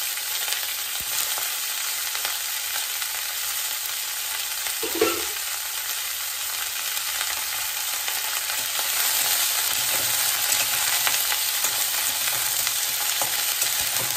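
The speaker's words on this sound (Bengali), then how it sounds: "ব্রোকলি একসাথে তেলের উপরে ছেড়ে দিচ্ছি, ভালো করে ভেজে নেব।" Broccoli frying in oil in a pan, a constant bright hiss of sizzling that holds steady throughout, with one brief stir midway and no talking.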